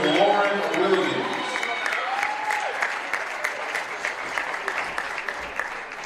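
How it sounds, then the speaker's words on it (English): Applause from a crowd at a women's college basketball game during player introductions, steady clapping and cheering filling the gym, with an announcer's voice over it. "Ladies and gentlemen, a big round of applause."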